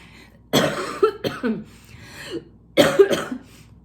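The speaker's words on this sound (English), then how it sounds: "I still have a little bit of a cough." Two bursts of harsh coughing, a few hacks each, sound close and fairly loud, with quiet pauses between them.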